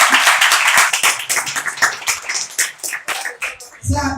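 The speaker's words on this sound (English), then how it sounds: "Clap the Ministry of Education." A crowd at a school storytelling festival in Jamaica breaks into vigorous clapping for the Ministry of Education, a thick rattle of hands that carries on loudly before a voice takes over near the end.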